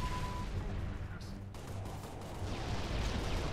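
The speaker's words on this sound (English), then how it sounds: "Suppressive fire." Gunfire in Halo: Reach, a dense wash of continuous shooting and blasts laid down as suppressive fire, loud and sustained throughout with no clear gaps.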